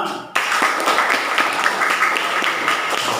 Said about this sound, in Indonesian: Yang keras tepuk tangan untuk kita semua.